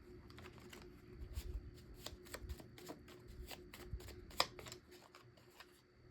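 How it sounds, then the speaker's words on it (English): A deck of handmade cards is shuffled close up in a quiet, continuous run of soft riffling flicks and taps, with a brief sharper snap near the end. "Here's my little cards that I made."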